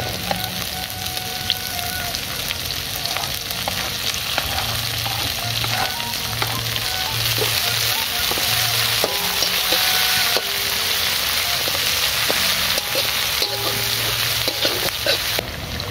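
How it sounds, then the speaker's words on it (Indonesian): Garlic and spring onion sauté in a pan for a stir-fried water spinach dish, giving a steady, loud, close sizzle with scattered scrapes and clinks of a stirring utensil throughout and no talk. "tumis bawangnya dulu. Lalu bawang daun."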